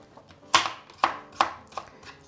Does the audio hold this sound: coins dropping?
no